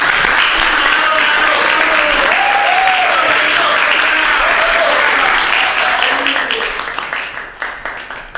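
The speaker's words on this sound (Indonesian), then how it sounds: "Mari kita berikan tepuk tangan yang meriah sekali lagi." Sustained, loud applause from an audience at the close of an indoor event, dense clapping that holds steady and then thins out and fades over the last seconds.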